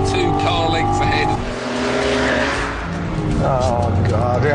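An Audi TT and a BMW Z4 race off the line into the first corner, engines revving hard and loud with tyre squeal and a passing whoosh, while someone talks excitedly over the noise.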